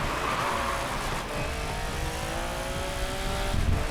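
An Aston Martin Valhalla accelerating in the Racing Master driving game, a continuous engine roar rising in pitch through the gears, loud and steady with no talk.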